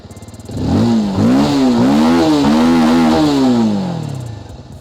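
A Bajaj Avenger 220 Cruise motorcycle's chrome single-barrel side exhaust revved close up: idle, then several quick throttle blips rising and falling in a wavy pattern, ending in a long rev that winds back down to idle.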